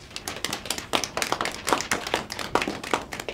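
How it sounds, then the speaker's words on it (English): A group claps together at a Blanket Exercise gathering on Indigenous perspectives, crisp close handclaps in a fairly sparse, irregular rhythm rather than a dense roar, with no talk over it. "Give yourselves a round of applause."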